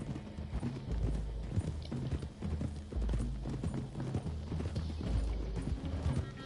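Horse hooves clip-clopping at a steady walking rhythm on a road in Red Dead Redemption 2, fairly close and clear, with faint mechanical creaks under the repeated hoofbeats.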